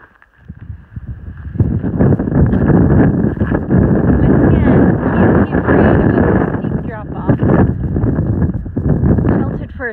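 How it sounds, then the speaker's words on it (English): Strong gusting wind buffets the microphone on a mountain trail running beside a glacier, a loud continuous roar rising and falling throughout, with a voice speaking over it. "the wind is getting bad"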